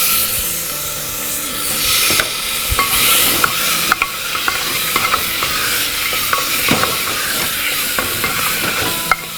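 Chopped tomatoes hitting hot oil with roasting coriander, a loud constant sizzle broken by repeated scraping and clacking of a spoon stirring in the pan, close up with no talking.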